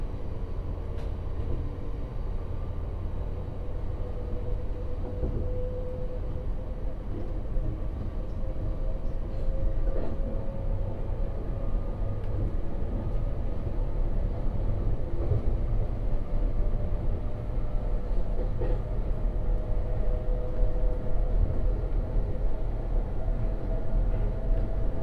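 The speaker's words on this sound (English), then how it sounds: "This train is for London Waterloo." A passenger train on the Shepperton to London Waterloo line rumbles steadily from inside the carriage, with a low continuous roll and faint whining tones running throughout at moderate level.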